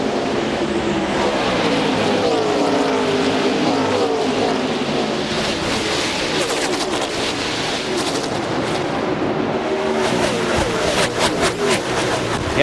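A pack of NASCAR stock cars roars off at the start of the 2002 race at Darlington, a dense, loud, continuous engine roar with passing sweeps and sharp crackling bursts toward the end.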